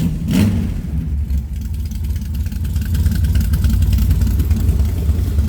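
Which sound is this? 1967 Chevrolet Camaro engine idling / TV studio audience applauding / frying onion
1967 Chevrolet Camaro engine idling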